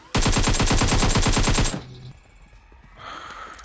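Automatic gunfire from a PUBG Mobile match, a loud rapid burst of evenly spaced shots lasting about a second and a half, followed by quieter game ambience and faint clatter.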